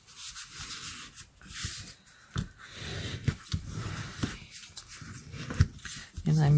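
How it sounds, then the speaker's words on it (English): Folded cardstock edges of a side shutter fold card are burnished with repeated close rubbing strokes, soft scraping passes coming in irregular bursts, with a little talk mixed in. "And I'm burnishing all of these."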